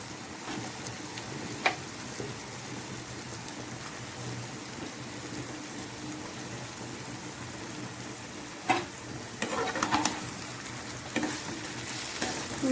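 Chicken frying in a pan for fried-piece biryani sizzles steadily and densely, like rain, with occasional stirring clatters and scrapes near the end and no voices.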